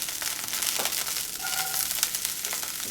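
Chopped onions frying in a pan as the start of a beef casserole, a steady close sizzle with soft crackle that carries on throughout with no voices.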